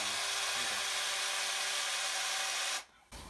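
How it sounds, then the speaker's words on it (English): A power drill whines steadily at close range for a few seconds while drilling through metal, then cuts off abruptly, followed by a brief quiet thump. "So I'm just going to drill through it and make a mark on it."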